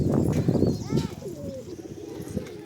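Pigeons kept in a loft, with soft cooing and light bird calls amid rustling and a steady murmur of background noise, fairly close, while occasional faint voices sound in the background.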